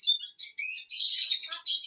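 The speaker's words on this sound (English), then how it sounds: "Oh, we've got the birds in here." Birds chirp in a zoo enclosure, a series of loud, close, high-pitched tweets and calls in quick bursts with short gaps between them.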